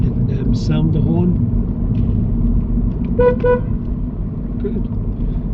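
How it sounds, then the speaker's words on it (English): A car horn gives a short honk, then a brief double toot during a driving test, inside the car under the steady rumble of the engine, with people speaking around it. "And sound the horn."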